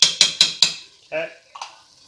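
A spoon stirs thick meat sauce in a pot, four quick wet scraping strokes close up followed by a couple of softer clinks and squelches.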